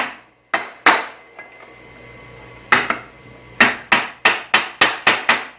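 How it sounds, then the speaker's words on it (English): A hammer taps a chisel on a 1965 Thunderbird convertible quarter window bracket, first a few isolated metallic strikes, then a quick series of sharp ringing blows in even rhythm, close and loud. "Just gonna get a hammer on it too hard."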